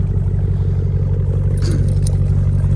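A lifted, cammed and tuned 2011 Jeep Grand Cherokee with a 5.7 Hemi V8 idles with a steady, loud, deep lumpy throb, close up, with a brief light metallic rattle partway through.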